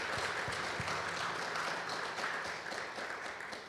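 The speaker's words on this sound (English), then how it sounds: "I think you can join me in applauding them for their participation today." Audience applause at a Lenten breakfast conversation event, a steady wash of clapping that fades slightly toward the end, with no talking.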